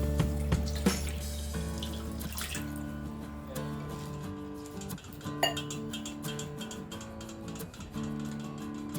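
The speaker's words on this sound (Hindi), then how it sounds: "इसमें पानी डालेंगे और 2-3 बार अच्छी तरह से धो लेंगे।" Roasted moong dal is rinsed in water in a kitchen. The running tap and swishing water sit close, with small clinks from the vessel, and a steady tonal hum runs underneath throughout.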